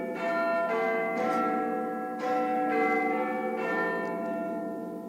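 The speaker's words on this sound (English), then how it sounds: "All I can hear is some bells." Church-style bells ring on a pantomime stage in a repeating series of resonant strikes, each hum ringing on into the next, loud and clear with no talking over them.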